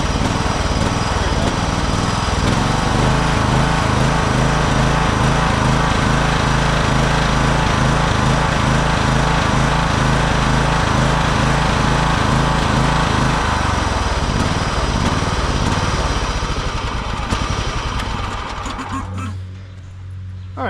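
An old John Deere engine runs loud and close, its rough steady drone rising and dipping as it surges, then dropping away near the end.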